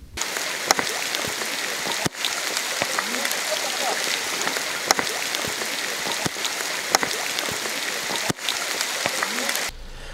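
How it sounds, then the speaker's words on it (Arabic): Steady rain falls on a natural stone bathing pool fed by wadi water at a traditional sulfur spring bath in Algeria, a dense, even hiss with scattered sharper drop hits throughout. "تحت زخات المطر المتساقط"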